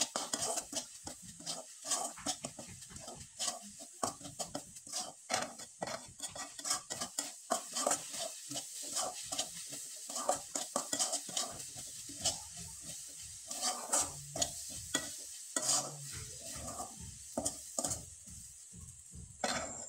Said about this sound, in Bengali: নারকেল কোড়ানোটা দেওয়ার পরে খুব ভালোভাবে নেড়েচেড়ে নিতে হবে।